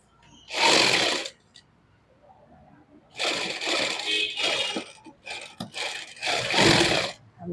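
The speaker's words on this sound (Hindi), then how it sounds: "हमने सिलाई लगा दी है।" Sewing machine stitching a lined suit, several bursts of rapid mechanical whirring, one short run followed by longer stretches broken by brief pauses, close and fairly loud.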